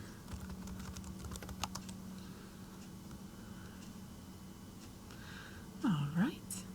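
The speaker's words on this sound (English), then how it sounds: "I'm going to type in my email address." Someone types an email address on a computer keyboard: a brief burst of light clicking keystrokes early on, followed by quiet room tone and a soft breathy voice near the end.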